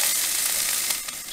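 Ham, potatoes and onions sizzling in a frying pan at a campsite, a steady close hiss of hot fat with small pops running through the whole short stretch, no voices.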